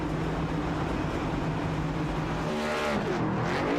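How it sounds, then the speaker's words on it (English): A race car in a sim racing game roars in a steady, loud engine drone during celebratory burnouts, with the pitch rising and revving near the end. "coming on around to do his celebratory burnouts"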